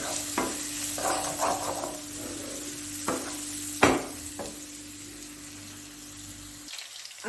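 Onion fries in a pan for chicken kachori filling: a soft continuous sizzle broken by several sharp stirring knocks and scrapes, over a low steady hum, fading quieter near the end.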